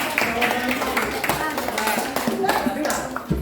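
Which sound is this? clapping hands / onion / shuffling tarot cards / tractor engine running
clapping hands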